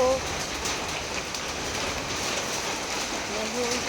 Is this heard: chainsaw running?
no